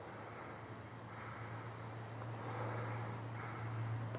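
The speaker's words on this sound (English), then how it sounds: "That's him breathing, and the crickets in the background." Faint steady chorus of crickets chirping outdoors at night, a continuous high trill over a low hum, with soft breathing barely audible beneath it.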